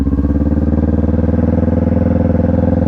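A motorcycle engine runs steadily and close by with a rhythmic, throbbing mid-low pulse and a slight rise as the clutch is let out and the bike pulls away, with no talk over it.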